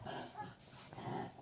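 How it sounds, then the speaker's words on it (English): Puppies snuffling, wheezing and softly grumbling close by, small breathy snorts and faint growls in a continuous restless stretch with no talk. "Let me get the puppies settled"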